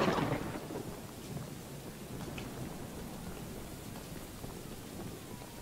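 Steady rain with low rolling thunder in the horror game Choo-Choo Charles, a dense wash of rainfall that swells louder at the start and then settles into a constant backdrop.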